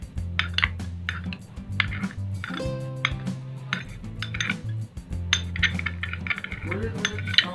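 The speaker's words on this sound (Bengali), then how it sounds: "এরপর মিশিয়ে নিচ্ছি।" Chilli chicken sauce is mixed in a pan for a restaurant-style recipe, with repeated metal-on-pan scraping and clinking strokes close by over a steady background, and no speech.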